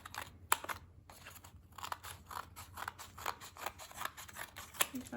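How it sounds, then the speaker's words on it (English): Scissors snip through paper close up while a nature journal is being made, with a quick run of crisp cuts and short pauses between them. "I'm just going to cut"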